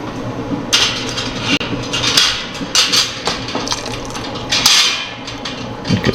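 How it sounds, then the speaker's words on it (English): Glass canning jars of pineapple are lifted from a hot-water canner with irregular clinks, knocks and clatter of glass and metal, along with splashing, bubbling water, all loud and close. "Just removing them from the canner."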